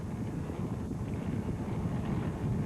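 A racing powerboat's engine drones as a low, steady rumble on calm sea water, with wind buffeting over it, continuous and fairly loud.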